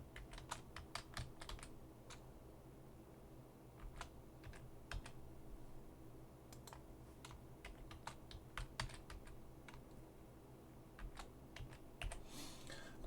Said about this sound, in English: So let's type in our first password.